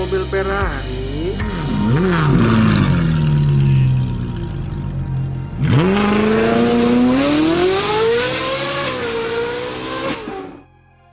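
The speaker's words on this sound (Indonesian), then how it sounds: "Wow, ada mobil Ferrari." A toy Ferrari car gives off a revving engine sound that rises and falls in pitch, steady and close for several seconds, cuts out briefly, then revs up again before stopping abruptly.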